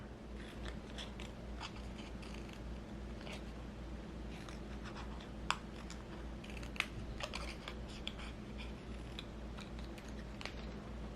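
Scissors snipping through paper while cutting Y shapes for a minimalist handmade Christmas card, a run of small, close, crisp cuts over a steady low background hum.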